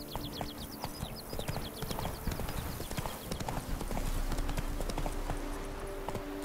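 Hoofbeats of Roach, Geralt's horse in the video game The Witcher 3, a steady close clip-clop running throughout over a busy game backdrop, with a few brief bird-like chirps early on.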